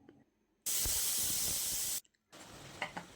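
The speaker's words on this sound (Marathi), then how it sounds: "आता झाकण लावून 2 शिट्ट्या काढून घ्यायच्यात" A pressure cooker cooking jackfruit curry with salt, turmeric and water vents steam in a loud, steady hiss with a faint high whistle for over a second. It cuts off briefly, then a softer, sputtering hiss follows, with no voices.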